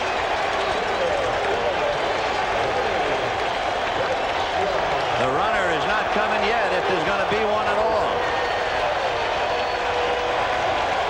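A baseball stadium crowd at the 1986 World Series Game 6 roars and cheers in a dense, unbroken wash of noise, with a broadcaster's voice talking over it.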